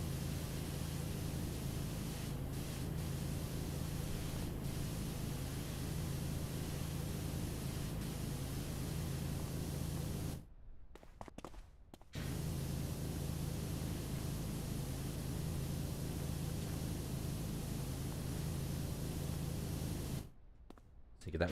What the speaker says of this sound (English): just go on up there and just spray it normally